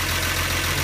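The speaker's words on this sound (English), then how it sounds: "being that it is a little bit of a cold-natured pre-emissions engine, higher compression, it does need a little bit of extra time to warm up." Wolseley car with a cold, higher-compression pre-emissions engine fitted with SU air cleaners, idling while warming up: a steady, close, even low hum with no talk.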